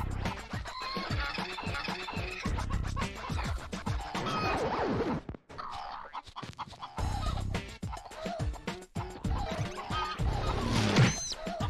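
Chicken sounds from the video game Mort the Chicken, loud close clucking and scratchy squawks in rapid bursts over busy game noise, with a brief near-silent gap midway before the clucking resumes.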